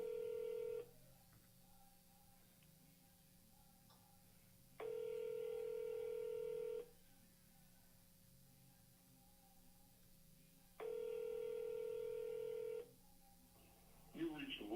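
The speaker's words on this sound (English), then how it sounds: "We're gonna call Mr. Willie back." A telephone call rings out as a repeating ringback tone, three long evenly spaced tones with silent gaps between them, faint and clear in a quiet room.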